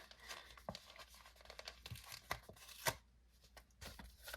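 Planner stickers are peeled off a sheet in quick, close tearing and crinkling bursts, quiet with short pauses between pulls.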